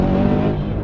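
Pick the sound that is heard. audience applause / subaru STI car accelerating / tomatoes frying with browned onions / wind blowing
subaru STI car accelerating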